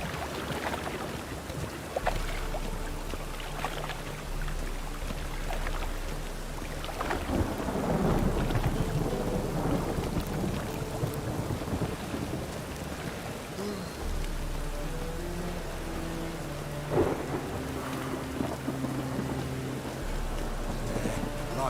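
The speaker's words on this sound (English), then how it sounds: "Rain again. Damn mages." Rain and rolling thunder from The Witcher 3 video game play together: a steady hiss of rainfall with long, low rumbles of thunder that swell and fade several times.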